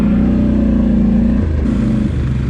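A Polaris Sportsman ATV engine revs hard under load while climbing a hill on a winter trail, a steady loud mid-pitched drone that dips and shifts pitch partway through as the throttle changes.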